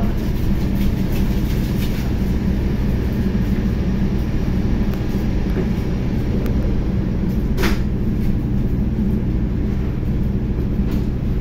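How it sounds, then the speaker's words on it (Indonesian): The Wijaya Kusuma passenger train pulls away from Gombong station with a steady, dense rumble of wheels and carriages, heard from on board, with one sharp metallic clank partway through. "kereta api Wijaya Kusuma diberangkatkan kembali dari stasiun Gombong."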